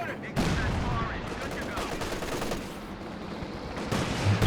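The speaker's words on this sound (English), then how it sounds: "Maybe it was the Pathfinder's artillery." Artillery and gunfire in a Company of Heroes 2 2v2 match, heard as a dense, continuous barrage of booming blasts and crackling shots. The volume stays steady throughout, with heavier impacts near the start and end.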